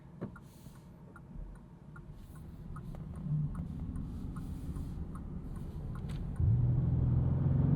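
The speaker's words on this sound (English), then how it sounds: "this will kick you out of EV mode, as you just saw, if you go past a certain point in the throttle" Inside a 2027 Bentley Continental GT S coupe, a 671 hp V8 hybrid moving from electric mode: a low cabin rumble with faint ticks swells, then the engine cuts in with a firm, rising hum near the end.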